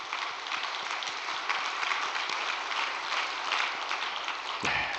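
Sustained audience applause of thanks at a church gathering in Korea, dense steady clapping from many hands filling the room, fading out at the very end.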